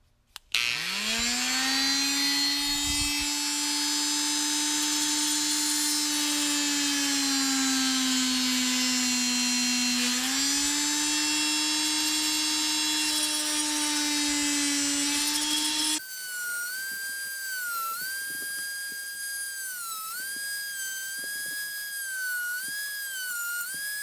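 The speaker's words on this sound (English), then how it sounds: "Just need to grab my Dremel." A Dremel rotary tool spins up from silence to a loud, steady high-pitched whine, dips briefly under load, then drops to a lighter, wavering whir for the rest of the clip, with no talking.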